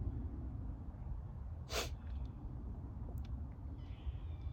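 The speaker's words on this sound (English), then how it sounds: "I'm about to sneeze." A single short sneeze bursts out midway through an otherwise quiet, low-level room with a soft background hum, followed by faint small noises.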